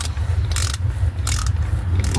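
Ratchet turning screws into a 2009 Dodge Journey transmission during engine assembly, with repeated clicking bursts over a steady low background hum, loud and close.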